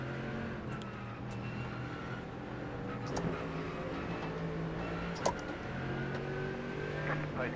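GT race cars in iRacing accelerating at the green flag, a steady layered engine drone with rising revs from several cars and brief clicks, at moderate volume.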